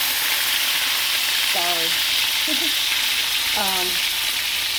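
Southern-style oxtails sizzle loudly and steadily in a hot pan, a broad close-up hiss that runs throughout while a woman briefly murmurs a couple of words over it.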